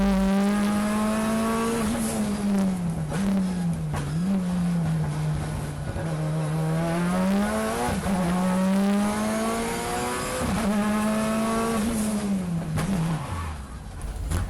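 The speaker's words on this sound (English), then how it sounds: "pushing the Evo to its limit on the cold track" A Mitsubishi Evo race car is driven hard around a cold Hampton Downs track in a time-attack event, its loud engine note rising and falling steadily through the gears without a break.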